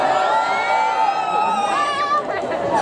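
Crowd at an outdoor Fridays for Future climate demonstration in Erlangen yells and cheers together, a dense sustained roar of many voices with shrill whoops on top, close and loud throughout.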